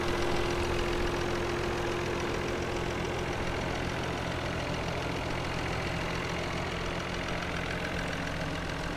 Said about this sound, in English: this is actually a turbo inline 6 engine. It's not a twin turbo V8.